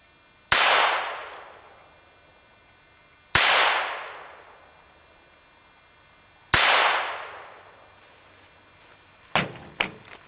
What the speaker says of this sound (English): The third gun I'm going to use is a Smith & Wesson 357 6-inch barrel.